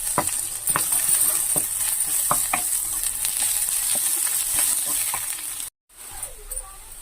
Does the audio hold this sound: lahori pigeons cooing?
no